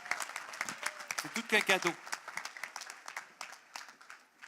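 Audience applause at a business awards gala sounds as scattered, fairly faint clapping throughout, with a voice speaking briefly over it in the middle.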